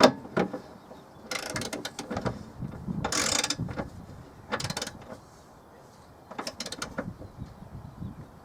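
A socket ratchet with an 18 mm socket clicks on the wheel bearing bolts of a 2007 BMW E91 335i, in short, quiet bursts of ratcheting separated by pauses.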